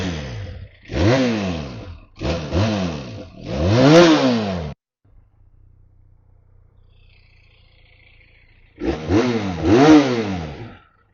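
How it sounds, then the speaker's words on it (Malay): A 2019 Benelli Leoncino 500 motorcycle engine revs hard in three quick close bursts, drops to a low idle rumble for several seconds, then revs twice more, loud and near with no talking. "jom kita start tengok ni Binali Leoncino 500 bunyi dia macam mana."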